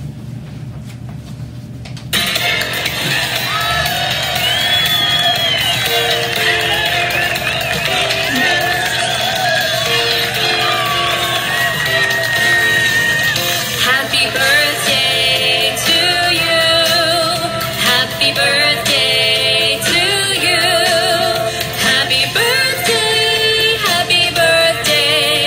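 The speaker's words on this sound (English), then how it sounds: "stand up so we can sing happy birthday to you. Clap along to happy birthday." Students singing happy birthday together in a school setting, with hand clapping along, a loud dense crowd of voices sustained throughout after a brief quiet start.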